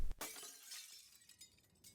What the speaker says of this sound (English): The mirror shattered suddenly,